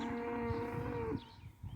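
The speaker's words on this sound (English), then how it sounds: "How long are we going to watch this cow crossing," A cow crossing in front of a horse rider lets out one long, loud, close moo that fades after about a second, followed by quieter rustling and shuffling movement.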